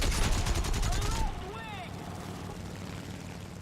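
Rapid aircraft machine-gun fire in a War Thunder arcade dogfight against an A5, a dense rattling burst for about a second over engine drone, then fading to steady engine hum.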